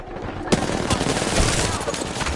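Video game gunfire, a rapid burst of close, loud automatic shots crackling in dense succession, with a voice briefly audible underneath.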